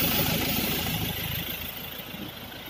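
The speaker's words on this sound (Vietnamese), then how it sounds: "Máy nổ tiếng máy rất là êm." A 2016 Mazda BT50 pickup engine idles quietly and steadily, a low, smooth hum with no talk over it.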